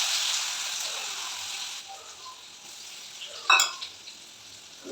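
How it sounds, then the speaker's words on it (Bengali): Chopped onions hit hot oil with bay leaf in a pan for egg curry, a bright hissing sizzle that fades down after a couple of seconds, followed by a sharp clink of utensil against pan. "এবার আমি কুচানো পেঁয়াজগুলো দিয়ে দেবো।"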